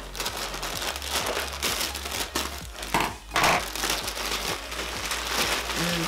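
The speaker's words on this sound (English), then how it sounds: "And we're just gonna go ahead and cut that open." A plastic shipping bag being cut open with crinkling, crackling plastic and scattered snips, fairly quiet and close, with no voices over it.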